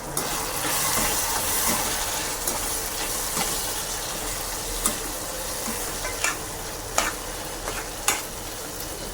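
Tomatoes cook in a hot pan for a quick dry chicken dish: a steady, close frying sizzle with a broad hiss and occasional sharp crackles and pops, no voices.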